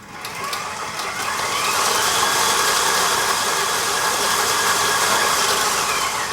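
Electric mixer beating cold cream cheese for no-bake blueberry cheesecake bars, a steady whirring motor hum with a faint rattling of beaters, starting a little softer then holding level, close and without talk.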